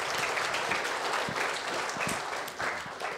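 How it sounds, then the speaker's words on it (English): Church congregation at a service applauding, a steady, even wash of many hands clapping at moderate volume with no talk over it. "So really, you guys need an applause too."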